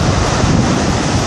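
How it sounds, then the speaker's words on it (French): Ocean waves surge against a harbour jetty at dusk on Réunion's west coast, a loud, continuous roar of surf with heavy wind buffeting the microphone and no voices. "ça veut dire que les vagues n'arrivent pas à sauter"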